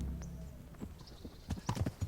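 Horse hooves clip-clop in Kingdom Come: Deliverance, a medieval game, with a few hoofbeats building to a closer cluster of steps at the end, and a faint whinny-like tone early on. No one speaks.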